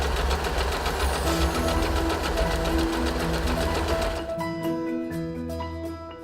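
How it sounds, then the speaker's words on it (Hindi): An Usha Janome Wonder Stitch sewing machine, with its pattern selector set to F, runs fast, even, rattling stitches for about four seconds close up, then stops, leaving quieter tonal background sound. "आखिर में पैटर्न सिलेक्टर को एफ पर रखें और सिलाई शुरू करें।"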